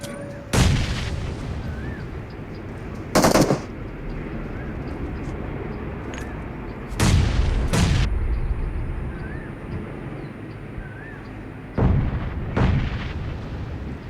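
Grenade blasts and gunfire in a shooter video game, heard as four sharp, loud bangs spaced seconds apart over a constant low rumble of battlefield ambience.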